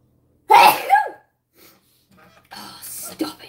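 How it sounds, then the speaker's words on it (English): One sharp, loud sneeze close up, followed by a pause, faint breaths, and then a few quiet mumbled words. "I'm gonna sneeze again."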